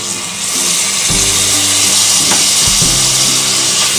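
Tomatoes sautéing in a pan for a healthy mixed-grain dish, giving a steady, loud sizzle throughout with a few low thumps and scraping clatters as they are stirred.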